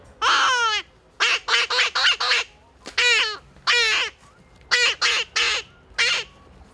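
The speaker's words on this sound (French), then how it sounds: "Il y a un canard éventuellement." A duck calls close by in a long run of loud, nasal, honking quacks, some single and some in quick clusters of three or four, spaced by short silences.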